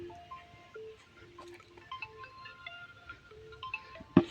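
A phone ringtone plays a faint electronic melody of short repeated notes, ending with a sharp click.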